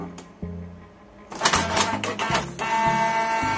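Canon Pixma G-series inkjet printer running a page after a manual reset, with rhythmic low mechanical stepping and whirring that rises into louder feed and carriage rattles, close up and steady with no talking.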